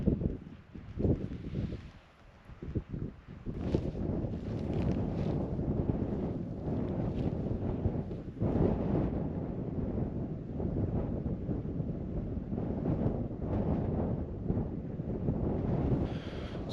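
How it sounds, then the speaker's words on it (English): Strong, biting wind sweeps across an exposed hillside in Wales, roaring and buffeting in uneven gusts close against the microphone, with a steady rushing bed between the louder blasts. "despite this biting wind"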